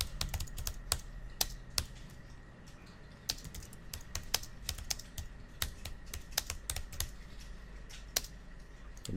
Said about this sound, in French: sur ce paragraphe vide, je vais taper le premier titre